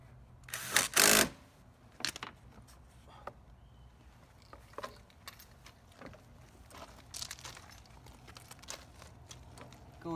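Deck screws are driven into an intersystem bonding bar by a ground rod, heard as a loud rattling burst near the start and then sparse clicks and knocks of the driver and hardware.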